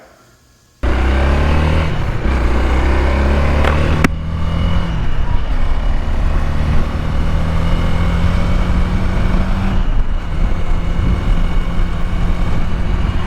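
2024 Honda Rebel 300 motorcycle fitted with a K&N air filter, engine starting abruptly and then droning loudly and steadily while riding, with a gear change and shifting pitch, no talk.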